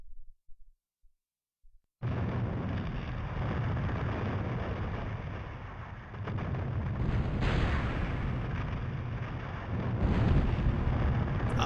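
A ship's heavy weapon fires in Skies of Arcadia Legends, a sustained roaring blast of artillery-like booms and rumbling wind-heavy noise that swells after a brief quiet start and stays loud throughout.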